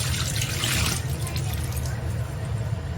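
Wood ear mushrooms rinsed under running tap water, a steady close splashing and trickling of water, loudest in the first second and then continuing evenly.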